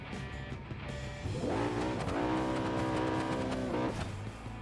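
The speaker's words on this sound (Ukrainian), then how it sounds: "в нього тупо взривається мотор. Він не витримує цього навантаження." A car engine in the BeamNG.drive driving game strains under heavy load and blows, a loud continuous roar whose pitch climbs, holds high and then drops away, with no talking.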